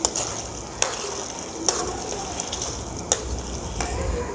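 Mutton simmering with yogurt in a pot gives a soft steady sizzle, broken by several sharp clinks of a spoon against the pot as it is stirred.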